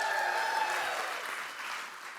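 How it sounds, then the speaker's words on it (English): School audience applauding a band at a State of the School show, a fairly faint, steady patter of many hands clapping that eases off slightly toward the end. "Let's give another round of applause for Peter Valera and the Not So Late Night Band."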